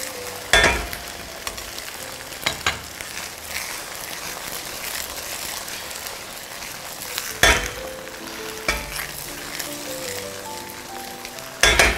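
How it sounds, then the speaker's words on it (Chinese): Tofu with egg frying in oil in a pan, a steady crackling sizzle with a few sharp scraping and clattering bursts from the pan, no talking. "好，背面来点油，"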